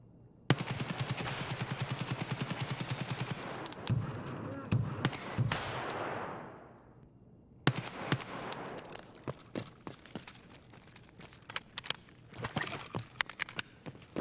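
Rapid bursts of RPKT Mod-1 AK-104 automatic fire in Escape from Tarkov, loud and close with short pauses between strings of shots and a brief lull midway.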